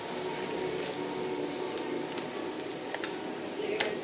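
Cassava okoy fritters fry in hot oil, a steady, dense sizzling hiss that continues without a break, with a few faint clicks and no talk.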